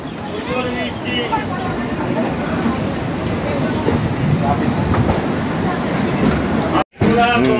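A train rumbles and clatters steadily while departing Howrah station on a cool morning, a dense, loud rolling noise with rhythmic wheel clacks throughout, briefly cut to silence near the end; someone talks over it.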